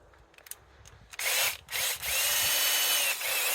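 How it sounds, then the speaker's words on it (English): A power drill fitted with a 10 mm socket whirs in short, loud bursts as it backs bolts out of a third brake light on a 2015–2020 GM Yukon XL, Tahoe or Suburban, starting with a brief stop and then running longer. "So you could use your drill, or actually let's try the drill here."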